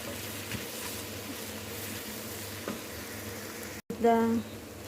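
Spices sautéing in a pan for nasi kebuli, a steady, soft sizzle and hiss with faint stirring ticks throughout, briefly cut off near the end before a humming tone takes over.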